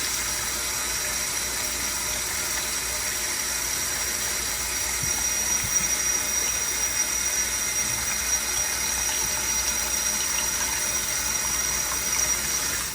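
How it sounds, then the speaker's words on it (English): Warm tap water runs in a gentle stream into a container, a steady, even hiss that barely changes, with faint clinks underneath. "I'm going to use a gentle stream of water because I don't want to overflow it too fast."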